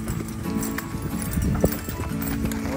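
A horse being led out for saddling, hooves clip-clopping in an uneven walking rhythm close by, with a sharp knock midway and faint background noise.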